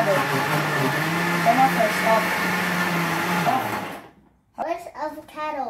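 A kitchen blender whirs steadily at close range for about four seconds while blending avocado for homemade ice cream, then cuts off, and a voice speaks just after.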